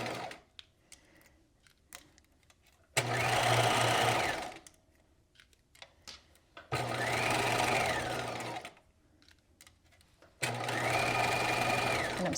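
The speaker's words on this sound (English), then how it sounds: "And I'm stitching all the way around with that 1/2 inch seam allowance" A sewing machine stitches a half-inch seam in knit fabric for a jewel-neck top. Three steady, sustained runs of fast whirring stitching are separated by short quiet gaps with small handling clicks, close and clear.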